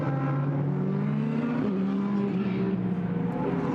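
GT race cars of the Blancpain GT Sports Club at Paul Ricard circuit brake and turn through the Saint-Baume right-hander, a continuous loud engine drone with shifting pitch as several cars pass together.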